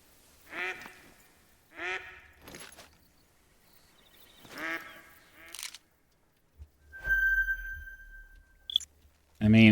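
Ducks in the hunting game theHunter: Call of the Wild give several loud, separate bursts of raspy quacking, spaced a second or two apart, followed by short clicks and game tones.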